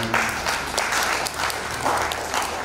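Applause greets a visiting university vice chancellor at a formal MoU signing ceremony, a steady full-room clapping that holds evenly throughout.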